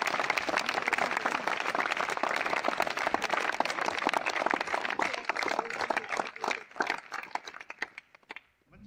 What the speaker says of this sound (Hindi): तालियां बजाएं दोनों।